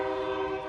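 A person vocally imitates a train horn at an outdoor fall festival market, holding one steady, brassy tone for under a second at close range with no other sounds.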